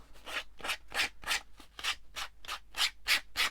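Rhythmic rasping strokes of a file or sanding block scraping the edges of an altered playing card, about a dozen quick even passes, close and fairly quiet.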